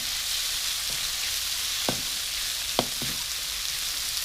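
Beef sausage stir-fries with holy basil in a hot pan, giving a steady sizzling hiss broken by a few sharp clacks of the spatula against the pan, with no voices heard.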